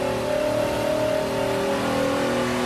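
A car engine revs loudly while driving, a steady close drone with slowly rising tones and no voices over it.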